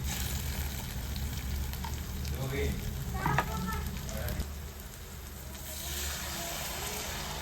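Ground masala fries with softened onions in oil for an Andhra-style palak keerai chutney, a steady close sizzle broken by scraping stirs in the middle.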